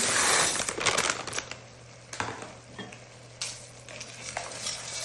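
Macaroni stirred into a sauce in a pan: loud scraping, sizzling bursts at the start, then quieter intermittent stirring strokes and soft clinks, close up, with no talking.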